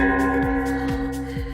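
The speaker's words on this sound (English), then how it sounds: "This is our gong, as you just heard" An office gong rings with a sustained, shimmering metallic tone and rich, layered overtones, loud and close, slowly decaying with no talking over it.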